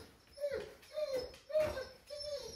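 A tired puppy whines in four short, high, plaintive cries spaced evenly about half a second apart, close and fairly quiet, with no talking.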